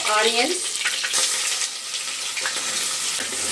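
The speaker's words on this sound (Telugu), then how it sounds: "ఆనియన్స్ లైట్ బ్రౌన్ కలర్ వచ్చే వరకు బాగా వేయించాలి" Onions fry in hot oil in a pan along with cloves, cinnamon, bay leaf and green chillies, giving a loud, close, continuous sizzle with stirring scrapes. A short tonal sound is heard at the start.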